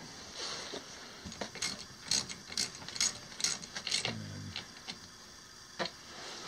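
A ratchet wrench tightens bolts on a Honda 8hp outboard during an impeller replacement, giving quick bursts of close, crisp clicking in an uneven rhythm with short pauses between runs.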